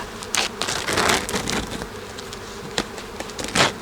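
Honey bees buzz inside the top brood box of a hive being split, a dense steady drone with individual bees zipping loudly past close by.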